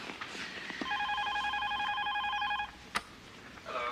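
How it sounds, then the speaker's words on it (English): A telephone rings with a close, warbling electronic trill lasting a couple of seconds, then an answering machine clicks on. A short voice follows at the end. "Don't get it. That's what answering machines are for."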